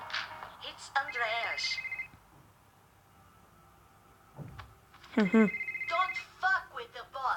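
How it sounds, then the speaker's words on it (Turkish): A phone rings in short electronic bursts in the video game Gangster Rio, two rounds separated by a pause, with game-like effects and background sound around it. "Telefon çalıyor."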